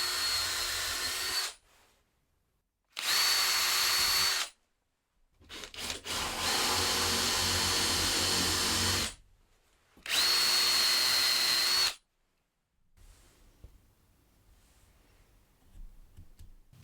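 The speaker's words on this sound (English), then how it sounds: "then I'm going to use a Forstner bit to drill down a bit" A power drill driving a Forstner bit into wood to recess bolt heads for a saw stand, loud whirring bursts in several runs of one to four seconds separated by pauses, close and with no talk.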